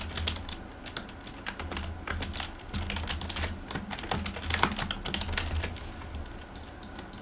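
Rapid, continuous typing on a computer keyboard, with dense irregular clatter of keystrokes close up and no voices.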